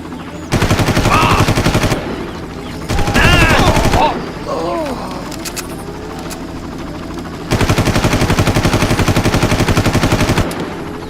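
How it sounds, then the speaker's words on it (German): Machine-gun fire in the video game Far Cry comes in loud, rapid bursts separated by short pauses, with quieter game sounds filling the gaps. "zumindest ist der Hubschrauber weg"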